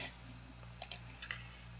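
A few faint, crisp mouse clicks in a pair and then another pair, quiet against a low steady hum, with no talking.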